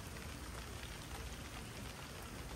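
Steady rain with a dense hiss and patter, constant throughout, fairly faint and with no voices.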